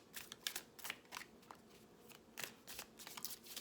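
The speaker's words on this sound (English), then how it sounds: "just shuffling without even looking" A deck of tarot cards is shuffled by hand in a run of quick, crisp riffling bursts, close and fairly quiet, with short pauses between them and no talking.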